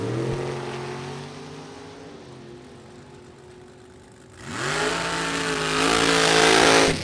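Drag racing dragsters at a Super Pro and Pro Eliminator event, with a loud sustained engine roar at the track that eases off and then surges again as revs climb, heard from a moderate distance with no talk.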